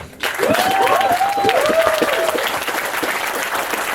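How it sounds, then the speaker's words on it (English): Wedding guests applauding the bridesmaids at a reception: dense, loud, sustained clapping from a full room that starts abruptly and keeps going, with a voice calling out over it briefly. "a big nice round of applause of how beautiful the bridesmaids are today"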